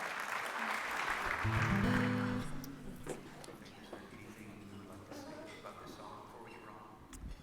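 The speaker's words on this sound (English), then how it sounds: "Can you give yourself another round of applause?" An audience at a charity gala for the Melodic Caring Project claps loudly for a few seconds while a few sustained musical tones play. The clapping then fades into a softer murmur of crowd noise.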